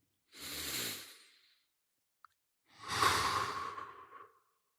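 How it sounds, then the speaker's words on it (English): Two deep breaths taken by people one after another, each a long breathy inhale or exhale with a brief pause and a tiny click between them, close and clear with no talking. "now it's time for everyone here to take a deep breath."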